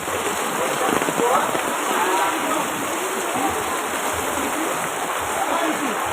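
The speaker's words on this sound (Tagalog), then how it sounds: "Ang dating ng ulan, kanya lang" Rain pouring down steadily in a dense, even hiss over a surface, loud and unbroken for the whole stretch, with a faint high whine on top and possible murmuring voices beneath.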